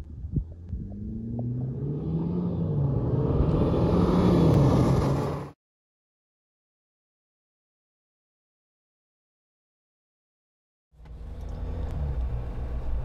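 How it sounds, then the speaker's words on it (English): Ford Bronco and Jeep Wrangler in an impromptu drag race on a dirt road near Moab, Utah, with a rising engine roar and rumble that cuts out, then a second loud engine burst returns. "A quick impromptu drag race down a dirt road out in Moab, Utah."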